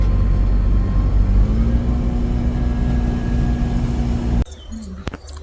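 A car hums along a road from inside, a steady low engine drone with tire rumble that cuts off abruptly near the end, leaving faint cabin sounds.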